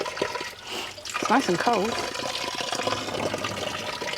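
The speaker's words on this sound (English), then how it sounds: "The Fountain of Health." Water runs and splashes from a public drinking fountain in Spain, a steady wash of noise under a couple's close, casual chatter.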